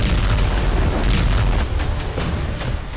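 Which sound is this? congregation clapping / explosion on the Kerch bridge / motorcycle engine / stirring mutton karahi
explosion on the Kerch bridge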